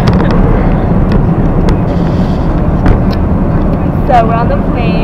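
Loud, steady low roar inside an airplane cabin, a dense continuous engine and air rumble with brief knocks and a short voice near the end.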